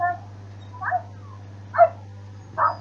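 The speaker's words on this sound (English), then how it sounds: "Oh, what a beautiful dog!" A dog in The Sims 3 video game gives three short whimpering yips spaced about a second apart, over a steady low game hum.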